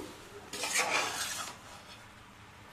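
Salted chopped tomatoes for homemade tomato sauce are stirred in a cooking pot: about a second of close scraping and clattering spoon strokes, then quiet, with a sharp knock at the end.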